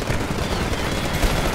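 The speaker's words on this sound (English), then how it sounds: "Double kill with the RE-45 pistol, guys." Continuous dense gunfire in the shooter game Titanfall, RE-45 pistol shots mixed into a loud, busy battle soundscape with no clear breaks and no voices.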